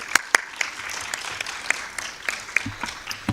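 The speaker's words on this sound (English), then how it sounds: "let's give them a round of applause" Scattered, moderate applause from attendees at a gender statistics conference, individual claps standing out over a soft continuous patter for a few seconds.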